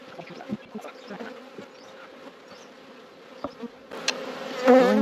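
Honey bees hum around their hives on a late-winter day, a low continuous drone with individual bees passing near the microphone, ending in a louder close buzz.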